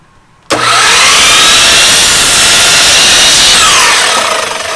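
Loud, close power saw rips through a pallet wood board at a marked line, starting suddenly and cutting in one continuous harsh roar that holds until the clip ends.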